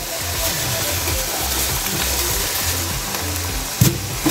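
Alamang shrimp paste hits a hot pan of Bicol Express with meat and coconut milk, giving a steady close sizzle and bubbling frying noise, with a couple of brief clinks from stirring near the end.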